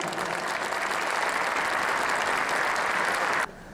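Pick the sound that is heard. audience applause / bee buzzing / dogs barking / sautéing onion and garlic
audience applause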